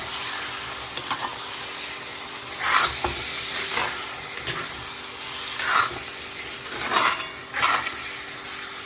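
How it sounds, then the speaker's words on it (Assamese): Meat fries in a pan with a continuous sizzle and hiss, broken by several louder scraping bursts as it is stirred, close up and with no talking. "মাংসখিনি দি ভালদৰে লৰাই দিলোঁ।"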